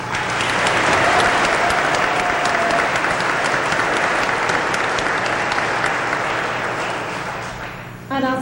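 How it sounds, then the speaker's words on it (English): Sustained, loud applause from a crowd welcoming home soldiers of the 152nd in 2004, a dense wash of clapping that holds steady for several seconds before fading, with a voice starting up at the end. "and we applaud you for that."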